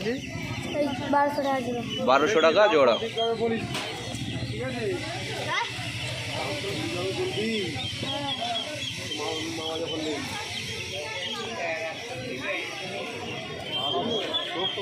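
Chinese and Silkie chickens cluck and call at a busy hen market, with a bright burst of squawking near the start, then steady fowl noise under someone talking about prices.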